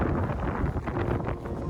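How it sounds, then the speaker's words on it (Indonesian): Strong gusting wind on a mountain hike up Gunung Bawakaraeng during a windstorm, a steady, fairly loud broadband roar buffeting the microphone throughout. "Kencang angin."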